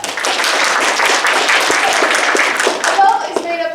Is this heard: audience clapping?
yes